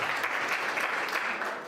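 An audience at a parliamentary portfolio committee gathering breaks into a steady, dense round of applause for an introduced headsman, sustained and evenly loud before easing slightly at the end, with no talking over it.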